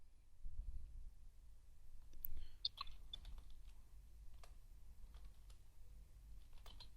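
Typing code on a computer keyboard for an Android app, with sparse, soft keystrokes and light clicks close by over a low background hum, and no talking.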